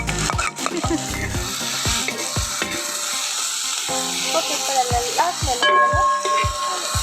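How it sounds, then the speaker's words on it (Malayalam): Onions sauté with salt in a hot pan, a steady sizzle broken by repeated sharp clacks of a spoon striking the pan, fairly close, with faint voices in the background. "ഉള്ളി വഴന്നാൻ ഉപ്പിടും, പെട്ടെന്ന് വഴല്ല."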